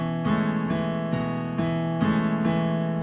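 A piano plays the verse of a song, repeated struck chords roughly every half second, steady and close, with no voices.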